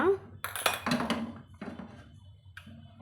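A metal pan clanks and clatters onto a kitchen stove in a few sharp, close knocks and scrapes, followed by quieter handling sounds.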